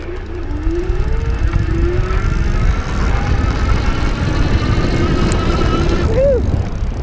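A 2016 Ariel Rider N-Class electric bike runs at full throttle, giving a steady motor whir over heavy, continuous wind rumble throughout, with no talking.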